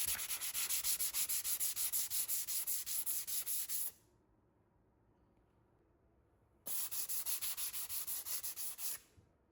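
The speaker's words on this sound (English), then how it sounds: "I go back with just a little sanding block, and you just have to lightly sand your nail holes" Rhythmic scratchy strokes of a sanding block lightly sanding filled nail holes, steady back-and-forth rubbing for a few seconds, a pause, then another burst of quick sanding strokes.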